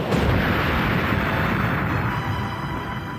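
A deep explosion from a torpedo striking the magazine of the USS Indianapolis, a massive rumbling roar that hits at once and stays loud before slowly easing.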